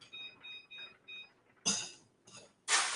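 A kitchen timer is set with a short run of bright beeps, then a few louder clicks or clatters nearby, in a quiet home kitchen with no talk.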